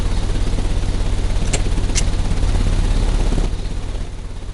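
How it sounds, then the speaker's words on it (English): A steady low engine drone in the Sherlock Holmes: Crimes & Punishments game, a heavy machine starting up and running with a constant rumble, two brief bright clicks partway through, then easing slightly toward the end. "The engine has started."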